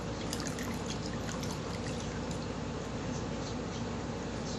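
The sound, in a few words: pouring clean water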